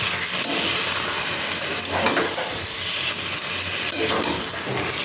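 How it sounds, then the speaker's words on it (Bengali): Mutton frying and being stirred in a pan, a steady dense sizzle with scraping stir strokes throughout, close and loud with no talk. "ভালো করে ওটাকে নেড়ে সেড়ে ঢাকা দিয়ে দিয়ে কষাবো"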